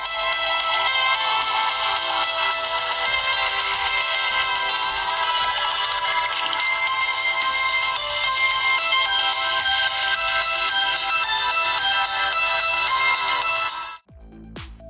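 Music played through a smartphone loudspeaker with a booster button: thin, tinny, bass-light playback that runs loud and continuous before cutting off abruptly near the end.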